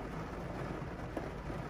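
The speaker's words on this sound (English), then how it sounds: "Literally, like, right as I'm pulling in, it's just downpour." A heavy rain downpour arrives as someone pulls in, a dense, steady hiss of falling rain with no talking.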